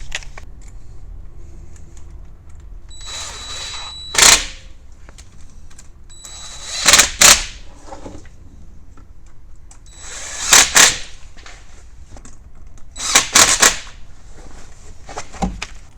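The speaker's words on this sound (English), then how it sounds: "I'm going to go ahead and bolt all these clamps up, tighten them up" Power tool tightening clamp bolts during a Can-Am Defender turbo installation: four separate short bursts of loud drilling whir spaced a few seconds apart, quiet between them.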